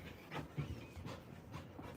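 A hyper pet dog pants close to the microphone in quick, rhythmic breaths, with a few slightly louder puffs between the steady huffing and no speech.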